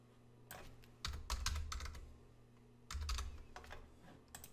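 Typing on a computer keyboard during AutoCAD 2020 work, in two quick bursts of close, crisp key clicks separated by a short pause, over a faint steady hum.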